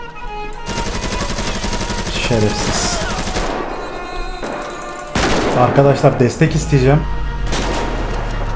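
Gunfire in the video game GTA 5 rattles in loud repeated bursts, with dense automatic fire and heavy impacts, while someone talks over the shooting.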